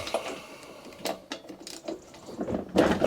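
Socket ratchet working a spark plug loose on a Mountfield 414 lawn mower: a few scattered close clicks and metallic rasps, fairly quiet, ending in a louder scraping burst.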